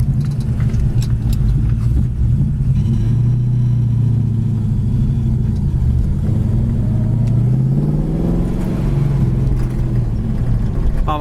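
A 1967 Ford Mustang's six-cylinder engine idling, a loud, steady low rumble heard up close with a brief rev partway through.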